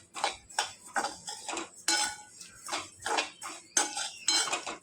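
Fenugreek and flax seeds dry-roasted in a pan, a rhythmic run of dry rattling scrapes and small clinks as a spoon stirs the seeds, close and without talk.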